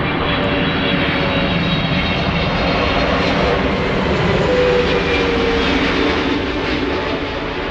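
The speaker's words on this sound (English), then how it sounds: "That was KLM flight 758 passing by, returning from Panama City." A KLM airliner roars past at Schiphol Airport, a loud, sustained jet-engine rumble with a broad whoosh that swells slightly midway and stays heavy throughout.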